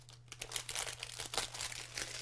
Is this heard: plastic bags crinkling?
yes